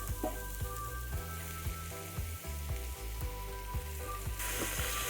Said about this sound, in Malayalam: ഇത് നന്നായിട്ട് ഇളക്കി ഈ മസാലയിൽ ഇതൊന്ന് ഫ്രൈ ചെയ്തെടുക്കാം.